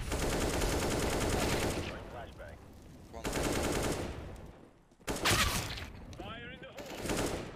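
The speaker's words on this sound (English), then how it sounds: "You're hearing Glock shooting." Glock pistol gunfire in an online shooter game, rapid bursts of fast shots in several loud stretches separated by brief gaps, with a voice talking between them.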